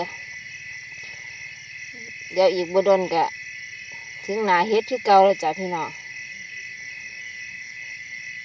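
Crickets chirp steadily at night in a vegetable garden, a constant high trill throughout while a person talks briefly over it in two stretches.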